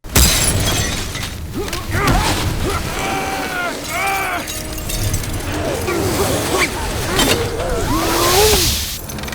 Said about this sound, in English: At one point, they must cross a glass-domed shopping mall. The glass shatters under their weight.